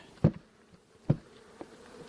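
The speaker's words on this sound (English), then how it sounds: "we're going to dump and get the rest, most of the rest of these bees in the hive" Honey bees dumped from a five-frame nuc box into a new hive: a couple of dull knocks, each followed by a burst of buzzing, with a faint hum of insects between them.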